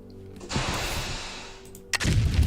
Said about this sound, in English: I'm going to make sure to make the explosions relatively far away.